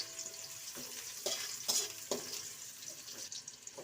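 Cinnamon, cloves, cardamom and bay leaf fry in a pan with a faint, soft sizzle and a few light scraping stirs, quiet and close.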